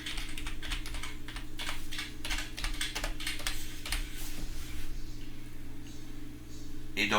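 Typing on a computer keyboard, a fast run of close key clicks over a steady hum, then a pause before a final burst of taps.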